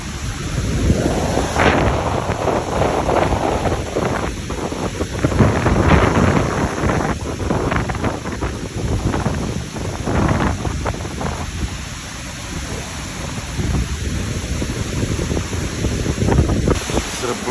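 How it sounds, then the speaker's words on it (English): Strong wind roars and gusts across Mt. Dandenong, battering the microphone with loud, surging rumbles and whooshes that rise and fall, and branches are coming down. "it's the strongest wind we've had since 2002 or 22"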